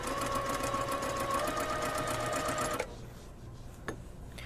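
A sewing machine runs steadily, stitching a quarter-inch seam on a puffy sleeve with the needle centered, a close whirring rattle that stops abruptly partway, followed by quiet handling clicks.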